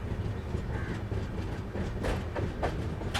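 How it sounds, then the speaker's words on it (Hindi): A passenger train rolls into Nagda Junction railway station at dusk, its carriages giving a muffled rhythmic clatter and rumble with a few sharp metallic squeals and clanks near the end, heard from inside at moderate volume. "इसी ढलती शाम के साथ हमारी ट्रेन एंटर कर रही है नागदा जंक्शन को।"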